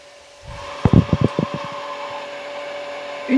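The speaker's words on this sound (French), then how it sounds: "Nous, on va faire ça comme ça, avec le mixeur plongeant." An immersion blender runs with a steady motor whine as it purées herbs in hot oil for homemade flavoured oil. A quick run of choppy, sputtering pulses comes early, then the hum carries on alone.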